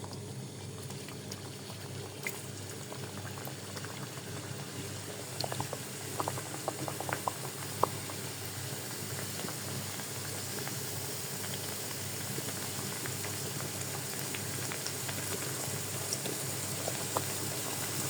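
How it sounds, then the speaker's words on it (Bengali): Pitha cakes fry in hot oil in a wok, a steady dense sizzle and bubbling that runs throughout, with occasional small pops and crackles. "আর এই যে চুলাতে কড়াই বসাই দিছি, তেল দিয়ে দিব এগুলো ভাজার জন্য"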